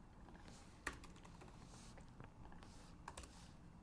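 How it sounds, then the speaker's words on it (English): Quiet typing on a computer keyboard, scattered key presses with a sharper click near the start and a few more later, faint and close against a soft background hiss. "Let me type that down."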